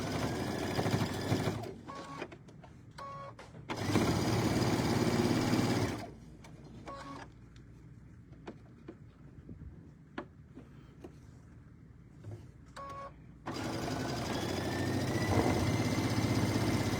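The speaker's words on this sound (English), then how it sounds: "stitch another pea fabric to the other side" Sewing machine stitching fabric for a Riley Blake tabletop banner, running in bursts of steady mechanical whirring separated by quieter pauses full of small clicks and handling noises.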